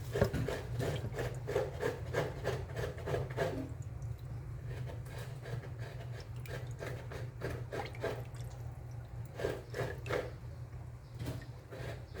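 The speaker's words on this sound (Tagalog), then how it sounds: "Itong, alam mo Len, itong kaguran na to, may story to Len." Coconut being scraped on a kaguran coconut grater, rhythmic rasping strokes repeating steadily, loud and close, pausing briefly in the middle before resuming.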